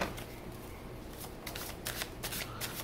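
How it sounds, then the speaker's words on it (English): A deck of tarot cards being shuffled close up, with several quick riffling bursts and soft slaps of cards against each other, quiet and without talk. "You guys saw me shuffle."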